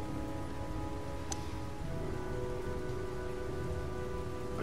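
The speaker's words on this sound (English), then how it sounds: "The sound of rain." Steady rain falls and patters on surfaces, a continuous close hiss of drops without pause, heard alone with no voices.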